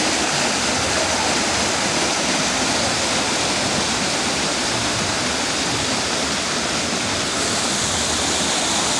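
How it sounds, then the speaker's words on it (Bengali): A fountain beside the hotel reception at Momo Inn Bogura, a resort and park, splashes in a steady, dense rush of water that continues without a break, fairly close and with no voices. "আর ঝর্ণার শব্দটাও খুবই সুন্দর।"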